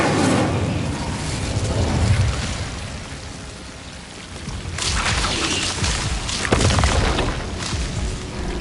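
A fire spell cast in the video game Hogwarts Legacy during a duel, heard as a loud, dense roaring whoosh with a surge of crackling burst near the middle, continuous over a booming game soundscape.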